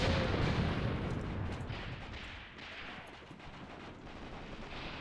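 Heavy, rolling gunfire and blasts from a WWII battle between German and Soviet forces in Graviteam Tactics, loud at first and then settling into a sustained rumble of distant shots.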